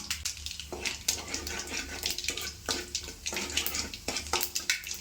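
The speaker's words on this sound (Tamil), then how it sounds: "கடுகுலாம் நல்லா பொரிஞ்சிருச்சு வெந்தயமும் நல்லா செவந்துருச்சு" Mustard seeds, urad dal and fenugreek splutter and crackle in hot oil in a pan, dense popping and sizzling with steady bursts, close and continuous.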